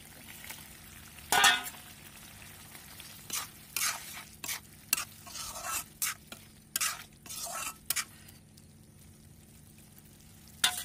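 Pieces of fish fry in a spicy curry sauce in a pan, with a steady low sizzle broken by repeated sharp scrapes and clinks of stirring, close and clear.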